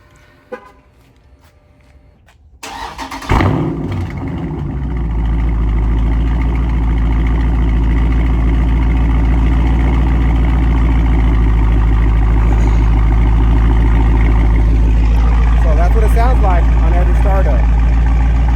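A car fitted with an active exhaust starts up after a few quiet seconds, then settles into a loud, steady idle with a deep, constant rumble for the rest of the clip.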